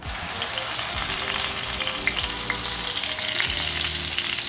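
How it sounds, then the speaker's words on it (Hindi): Onion, ginger and garlic paste sizzles steadily in hot oil for a parwal curry, a close, continuous frying hiss with soft crackles and occasional stirring scrapes, no voices. "इसको डाल देते हैं ऑयल में"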